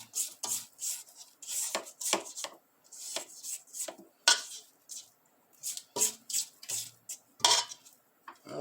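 A utensil scrapes around the sides of a mixing bowl of cookie dough, a series of short, close scraping strokes in an irregular rhythm with brief gaps between.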